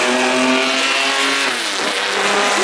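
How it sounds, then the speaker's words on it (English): A 12-cylinder racing car howls loud and close as it climbs the Goodwood Festival of Speed hill climb course, its engine note holding steady with a slight dip partway through, with no voices over it. "the 12-cylinder engine howling its way up the hill"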